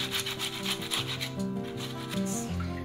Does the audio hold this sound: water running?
no